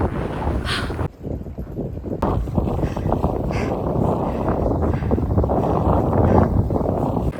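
Strong wind roars steadily across a snowy winter mountain on Taebaeksan, buffeting the microphone with heavy low rumbling gusts that barely let up, loud and continuous with no voices.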